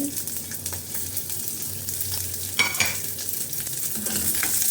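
Shallots, garlic and cumin frying in a pan give a steady close sizzle, with scraping stirs and a sharper spatula knock near the middle. No voice.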